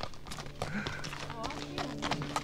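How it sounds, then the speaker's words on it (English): Horses walking outdoors on a country walk in Milton Abbas, Dorset, hooves clip-clopping in an uneven rhythm close by, mixed with voices talking over them. "I love your horses"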